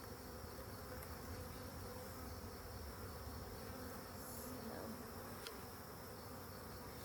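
Honeybees hum in a steady, dense buzz during an open hive inspection as a frame is lifted out, a soft continuous drone with no voices.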